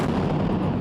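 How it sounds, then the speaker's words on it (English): Missile blasts striking a residential building in Gaza, a sustained, dense roar of explosive rumble with heavy low-end energy throughout a brief burst, loud and continuous with no voices. "Massive explosions as the Israeli military released footage of missile blasts at a residential building"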